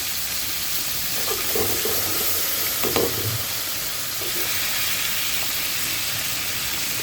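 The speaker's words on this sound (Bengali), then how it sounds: "মাছকে পাল্টে একটু ভালোভাবে ভেজে নিতে হবে" Fish frying in hot oil in a pan for a tomato fish curry, a steady close broadband sizzle with a few stirring clatters and pops, no talking.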